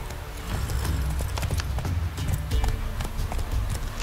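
Roach's hooves pound in a steady gallop across the ground in The Witcher 3, with rhythmic clip-clop beats throughout over faint ambient game sound.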